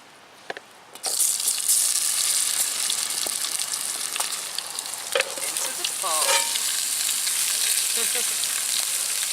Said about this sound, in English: Okay, so let's get this mountain man breakfast underway. Just potatoes and onions for now.